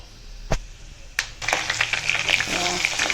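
Garlic and ginger fry over a low flame in a pan already holding oil with five-spice seeds, bay leaf and dried red chili for carrot pickle. Two sharp knocks come first, then a close, steady sizzle and crackle.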